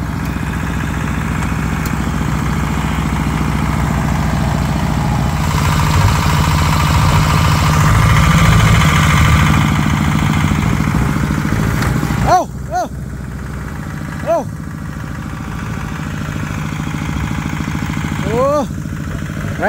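A Kubota RT155 walk-behind tractor engine chugs and revs while working a muddy rice paddy and getting bogged down, a loud steady throb that swells, then drops back, with people shouting and talking over it.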